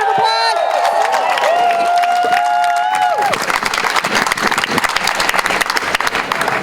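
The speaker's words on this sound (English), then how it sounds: "Give her a big round of applause." Rally crowd at a UC-AFT lecturers and union event bursting into applause and cheering after whoops and shouts, dense clapping that swells and carries on loudly.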